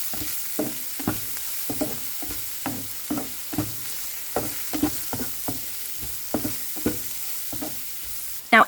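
A utensil stirs fried rice ingredients seasoned with salt, pepper, turmeric and vegetable flavor in a hot pan. Regular scraping strokes come about twice a second over a steady background sizzle, with no voices.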